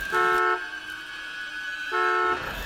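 Car alarm in the film 10 Cloverfield Lane, loud repeated horn-like toots in two bursts separated by a quieter steady alarm tone, with no voices.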